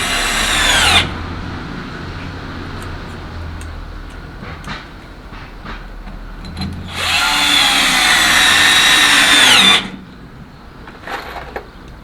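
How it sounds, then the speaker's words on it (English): Two loud bursts of a power drill whining at high speed, driving screws through wood into a backing piece, near and harsh, separated by quieter stretches with faint clicks and knocks. "These screws are going all the way through, right through to the back piece of wood as well."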